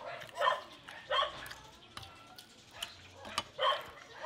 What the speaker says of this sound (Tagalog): Gutom na yung aso ng kapitbahay pa.